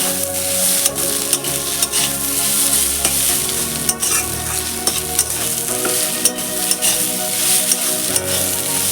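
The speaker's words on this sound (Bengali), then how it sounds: "আমার নোটের শাকটা ভাজা হয়ে গেছে।" Note shaak (amaranth greens) frying and being stirred in a pan, a steady loud sizzle with repeated scraping strokes of a spatula throughout, no talking.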